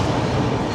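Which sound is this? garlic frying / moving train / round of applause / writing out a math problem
moving train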